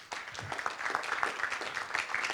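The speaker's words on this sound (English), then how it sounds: "let's give Emily, Michael, Byron, and Seth a big round of applause." Audience applause after a panel discussion at a western art museum, a steady wash of many hands clapping that fills the whole stretch at moderate loudness, with no talk over it.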